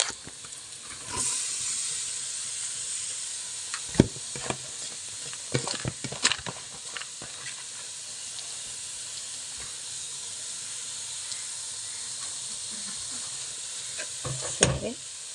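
Beetroot sizzling in a hot pan, with a continuous soft hiss and occasional scraping clinks from stirring, fairly quiet and steady throughout, no voices.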